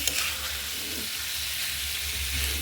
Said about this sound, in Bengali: দিয়ে মাছ আর আলু একসাথে আবার কষাবো